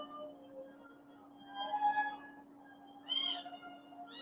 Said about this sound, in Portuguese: Às vezes vocês vão ouvir uns miados de gatinhos